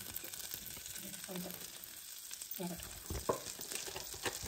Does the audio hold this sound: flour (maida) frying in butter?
yes